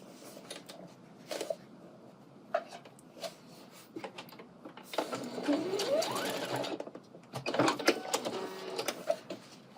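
A sewing machine bastes a pleat across the top of a colorblocked coat piece, with short stitching bursts, clicks and fabric handling at close range, rising into a longer run of stitching near the middle.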